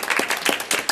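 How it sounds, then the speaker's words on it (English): Brief burst of applause at a county commissioners' meeting, a roomful of people clapping steadily and close by for staff. "I just would like to ask the board if they wouldn't mind just giving y'all applause for the"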